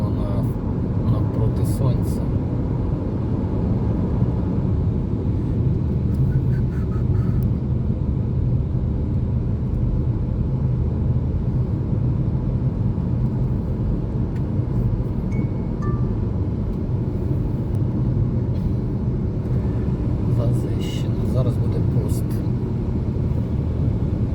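Riding in a car through the Carpathian mountains near Yablunytskyi Pass, Hoverla and Petros: steady, loud road and engine rumble throughout the ride, with occasional faint rattles and light taps.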